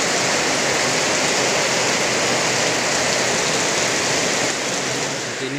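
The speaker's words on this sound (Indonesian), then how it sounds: "kita nunggu hujan reda dulu." Steady heavy rain pours down outdoors, a dense, continuous hiss that holds at the same loud level throughout and eases only slightly near the end, with no voices.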